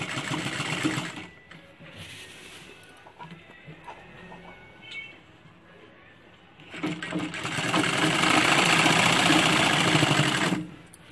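A sewing machine stitches a dhoti shalwar, running in bursts with a steady mechanical whir that grows loud and sustained toward the end, with quieter handling sounds between.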